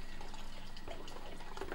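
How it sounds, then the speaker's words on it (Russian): Water poured into a container to dilute Trichoderma powder into a solution, a soft continuous trickling and splashing, fairly faint and close. "После будем уже дальше доливать воду до 10 литров."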